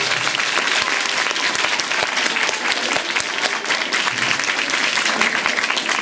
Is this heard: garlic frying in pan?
no